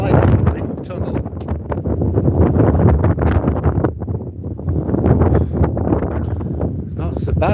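Strong gusty wind buffets the microphone on a seaside promenade between a parked camper van and houses, a loud continuous roar that swells and eases in gusts.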